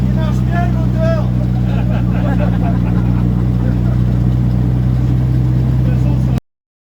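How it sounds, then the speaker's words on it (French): An old vehicle's engine idles and runs loud and steady throughout with a strong low drone, while people talk over it before it cuts off abruptly. "Il marche bien le moteur."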